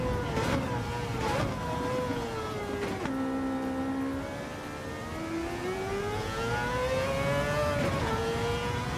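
The Mazda 787B race car's engine at Daytona in Gran Turismo 7 screams loudly, rising and falling in pitch through gear changes, easing off then revving back up along the straight, with no talking.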